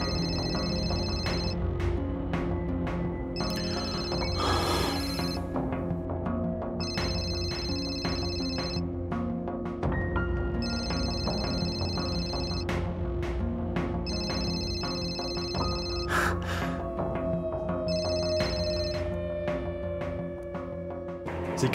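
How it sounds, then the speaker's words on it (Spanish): A telephone rings in repeated, evenly spaced bursts over a steady bed of dramatic background music in a dubbed Spanish-language telenovela scene. No voices are heard. "¡Epsun, contesta el teléfono ya!"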